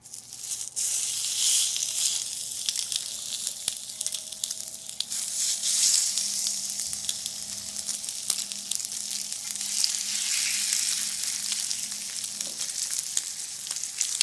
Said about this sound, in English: we're gonna sear on one side, then we'll flip, get some color